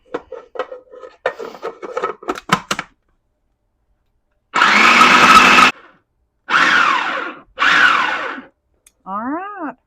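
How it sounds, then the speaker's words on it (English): A blender works butter into a crumble topping for blueberry lemon bars, three short loud motor pulses with pauses between them, following a moment of voice at the start. "then we're going to blend it all together for a nice crumble"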